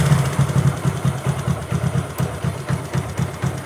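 A motorcycle engine runs up close during carburettor tuning, its exhaust thumping in a fast, even pulse at a steady speed with a light mechanical clatter and no voices.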